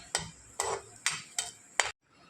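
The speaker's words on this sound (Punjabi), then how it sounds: "ਜੀਰੇ ਨੂੰ ਆਪਾਂ ਹੁਣ ਥੋੜਾ ਜਿਹਾ ਭੁੰਨ ਲੈਣਾ" Cumin seeds roasting in oil in a pan for karela sabzi, heard as five soft rhythmic scraping stirs with a faint sizzle underneath, then a brief drop to quiet.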